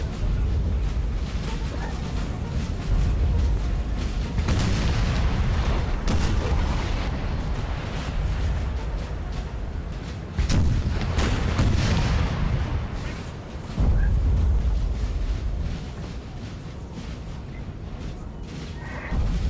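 Massed artillery fire in Napoleon: Total War, cannon booms going off repeatedly and overlapping in a dense, continuous barrage, loud and rumbling throughout with a few heavier blasts standing out.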